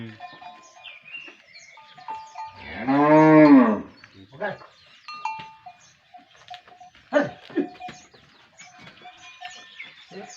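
A cow lets out one loud, drawn-out moo lasting about a second, close by, followed by quieter rustling and shuffling sounds.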